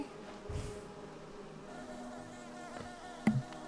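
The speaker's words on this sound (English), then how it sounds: "Yep, you know those bees. They get everywhere." Insects buzz in a side room of the video game Hollow Knight, a soft, steady, droning hum with a few louder taps and a low thump near the end.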